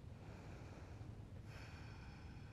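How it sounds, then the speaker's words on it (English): Long, deep breathing held in a yoga pose, a soft steady airy inhale that shifts into a brighter, hissier exhale about halfway through, close and quiet with no talking. "long, deep breaths here"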